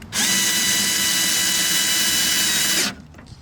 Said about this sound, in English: You just drill that right in.